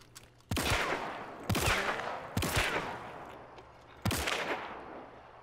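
The Cyclone, a video game weapon, fires four loud, sharp blasts about a second apart, each with a ringing tail, and there is no talking.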